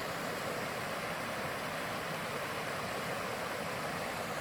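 A creek running high, flowing like a river, makes a steady, soft rushing of water that stays even throughout with no voices.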